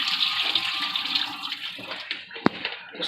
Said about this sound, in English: I'll pull off some of the water.